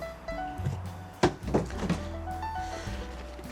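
A Cascade Mountain Tech camping chair, small and lightweight, is unfolded, giving one sharp thunk followed by a few softer clacks and rustles of the frame, close by with no talk.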